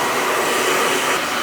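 A hair dryer runs on high speed and high heat while blow-drying a man's hair, a loud, steady, close rushing roar with no break and no voices.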